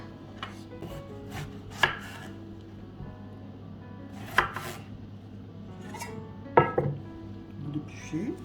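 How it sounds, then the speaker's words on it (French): A knife cores an apple on a cutting board, producing a few sharp cuts and knocks against the board at irregular intervals over a low hum, with a person speaking quietly between them. "Ensuite, vous prenez votre pomme, vous lui enlevez le trognon."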